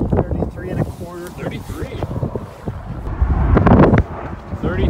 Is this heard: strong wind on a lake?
yes